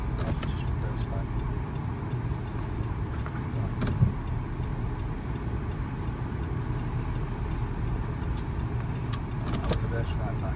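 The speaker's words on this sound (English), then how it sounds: "I have to just reverse back." A Nissan Qashqai 1.3 DIG-T petrol SUV with a DCT automatic gearbox reverses slowly while parking, giving a quiet, steady low engine hum with a faint click partway through.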